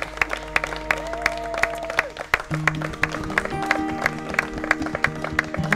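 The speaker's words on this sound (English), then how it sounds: "Y'all can clap." Wedding guests clap for the newlyweds at an inn ceremony, with sparse, distinct claps sounding over music playing with sustained tones in the background.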